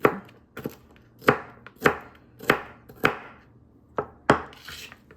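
An onion being chopped with a knife on a cutting board, around nine sharp, close thuds at a steady, unhurried pace with no voices.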